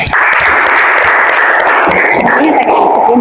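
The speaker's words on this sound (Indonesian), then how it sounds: "Beri aplaus untuk kelompok keempat." Classmates in a school classroom applauding a group after its presentation, dense continuous clapping at close range, loud and unbroken from start to finish.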